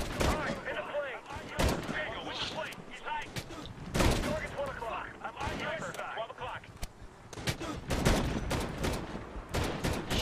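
Video game gunfire in Medal of Honor: rapid bursts of shots and sharp reports with battle noise, dense and continuous, while someone talks over the action.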